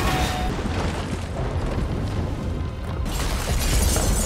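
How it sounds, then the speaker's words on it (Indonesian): Hospital building collapsing in a film scene, a dense continuous roar of crashing debris and rumbling that swells again near the end, loud and unbroken. "gedung rumah sakit itu pun ambruk"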